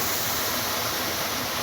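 A rain-swollen waterfall and river in full flow on South Africa's Garden Route on a stormy day make a dense, steady roar of rushing water, loud and unbroken.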